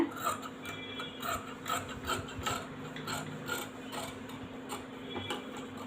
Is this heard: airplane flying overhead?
no